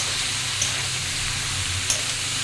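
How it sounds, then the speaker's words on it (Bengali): Sliced bottle gourd sizzles in hot oil for a Bengali prawn curry, a steady close hiss of frying with faint bubbling and a couple of small pops, no voices. "তেলের মধ্যে ভেজে নিয়ে নুন দিয়ে দেবো"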